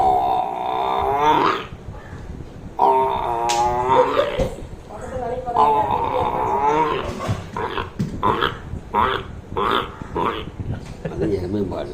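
A person's voice imitates a buffalo as a mimicry act, giving several drawn-out, low bellowing calls followed by a run of shorter grunting bursts.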